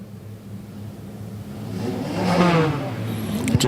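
Junior beginner stock cars wait on the starting grid at the Oval Circuit in East London, engines idling in a low steady rumble that swells as one revs up midway, with no talk.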